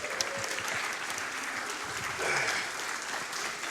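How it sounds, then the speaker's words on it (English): An audience at a live speedrunning charity event applauds steadily, a dense, even clatter of many hands filling the whole short stretch. "Can we get a clap for Marlin?"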